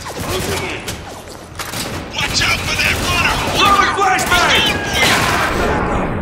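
Gunfire and a flashbang in the shooter game Spec Ops: The Line, with rapid bursts of shots and booming impacts piling up loudly under in-game voices throughout.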